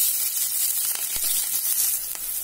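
Green chillies sizzle in hot oil with mustard seeds, a dense bright hiss with faint crackles and pops, close and continuous.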